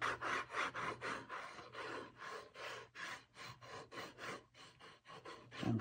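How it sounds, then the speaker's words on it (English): An awl scratches and scores through paint on an abstract mixed media painting, giving a steady run of short rasping strokes in a quick repeating rhythm, close and alone with no talk. "I usually like to score through it or scratch through it. With"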